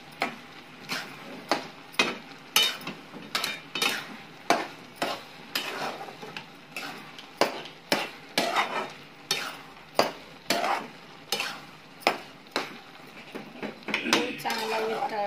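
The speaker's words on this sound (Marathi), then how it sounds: "सर्व व्यवस्थित हलवून घ्यायचे।" A spoon stirs puran dal filling in a pan with a steady rhythm of scraping, clinking strokes, about one each second, close and clear, with a soft sizzle underneath.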